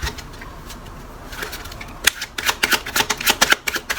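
Tarot cards being shuffled by hand, with a quiet rustle at first, then a rapid run of crisp riffling flicks and snaps that grows louder and denser toward the end, no talking.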